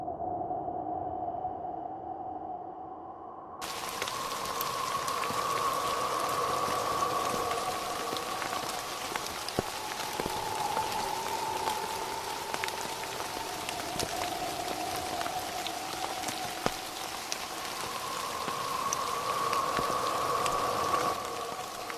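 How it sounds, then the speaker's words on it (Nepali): Rain begins falling with a soft patter that jumps suddenly into a steady, dense shower of drops on surfaces, continuing evenly with occasional sharper drips throughout. "यस्तैमा अचानक चर्को हावा र पानी सिमसिम गर्दै पर्न थाल्यो।"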